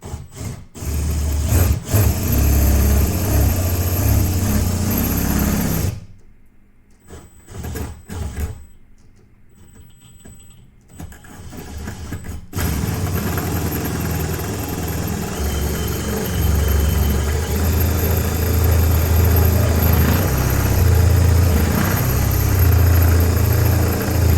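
A Forstner bit boring leg mortises into wood, a loud grinding drill whine that cuts out midway, leaving a quieter pause, then resumes steady and strong.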